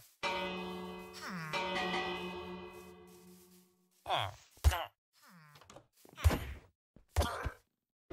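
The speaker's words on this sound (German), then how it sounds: "Also soll ich mal die Glocke hier klingeln?" Bell rung by hand in a Minecraft survival village, a sustained ringing tone with harmonic overtones lasting a few seconds and then fading, followed by brief thuds and clicks of in-game movement.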